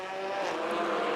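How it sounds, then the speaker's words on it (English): Formula Masters race car sliding around a hairpin on a wet circuit, a steady high engine whine at speed, loud and close for about a second, with a faint tyre hiss and no talk. "Zheng Shengguan sliding around the hairpin, but manages just about to keep it together"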